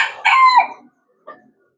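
A chicken crows close by in a short, loud burst that trails off, followed by a brief fainter cluck, with silence after.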